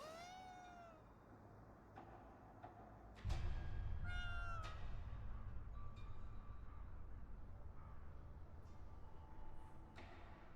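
A cat in the video game Ghostwire Tokyo meows a few times, drawn-out and clear, over a steady wash of in-game ambience that swells louder partway through.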